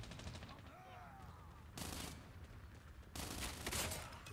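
Rapid bursts of automatic gunfire in the mobile shooter game Call of Duty Mobile, two dense fusillades rattling over a quieter stretch with faint game noise, at low overall volume.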